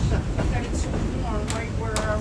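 A passenger train eases into the station at Parrish, Florida, with a steady rumble and light clicking of the cars on the rails, close and continuous beneath a voice speaking.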